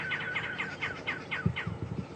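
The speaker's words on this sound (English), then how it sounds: "You can hear the babblers just in the background there." Babblers call in the background on a morning safari drive at Djuma Game Reserve, a faint series of short, repeated chattering chirps in quick succession over low rumbling ambience.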